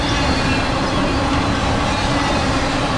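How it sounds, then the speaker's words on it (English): A BNSF high-priority Z train passes at track speed westbound in Run 8, giving a loud, steady rumble and rush of rolling cars and wheels with no break. "This is a Z train"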